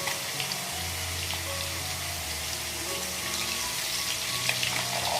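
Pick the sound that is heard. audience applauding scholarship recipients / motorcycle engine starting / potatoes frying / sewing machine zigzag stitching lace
potatoes frying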